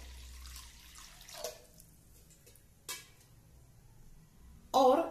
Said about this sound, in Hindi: अब हम इसमें 1 लीटर पानी डालेंगे